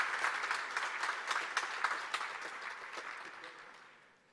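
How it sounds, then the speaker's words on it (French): Audience applause at a business event in Lomé, a burst of many hands clapping that starts strong, with a few sharper claps standing out, then gradually thins and fades toward the end. "ça mérite des applaudissements"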